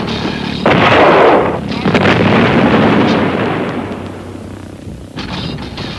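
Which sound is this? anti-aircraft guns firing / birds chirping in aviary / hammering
anti-aircraft guns firing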